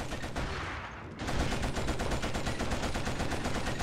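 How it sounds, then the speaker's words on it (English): Rapid automatic gunfire from the shooter video game Killzone crackles in dense bursts, briefly easing before resuming louder and continuous, with no voices. "Yeah, plenty of gunfire,"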